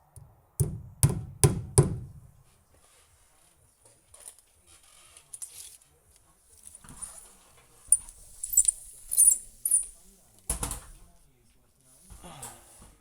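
Stainless clout nails are hammered on a new house build with four sharp, loud knocks in quick succession. Scattered fainter taps and clatter follow, and another thump comes later.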